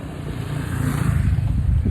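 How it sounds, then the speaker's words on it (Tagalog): A motorcycle engine hums steadily and swells slightly as it passes close by on a seaside road in Batanes, with road noise underneath and no talking. "may nakasalubong lang isang motor"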